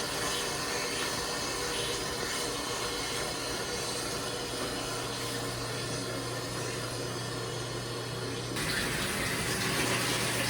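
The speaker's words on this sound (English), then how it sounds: "that's air coming out of the hot water tank" Air and water gush from the pipe of a drained hot water tank as the water heater refills, a loud, steady rushing hiss that runs throughout and swells slightly near the end, with no talking.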